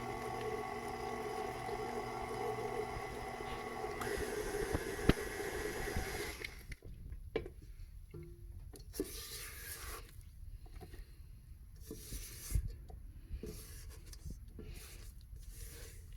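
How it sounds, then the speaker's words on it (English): Egg being blended into fudgy chocolate chip brownie batter: a steady mixing whirr for about six seconds, then irregular scraping and rubbing against the sides of the bowl, fairly quiet and with no voices. "We're going to blend that into the mixture, scrape down the sides of the bowl"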